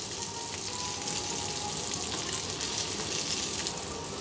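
Lamb ribs pan-frying in a hot pan during braised-rib cooking, a continuous bright sizzle and crackle of spitting fat, steady and close, with no voice over it.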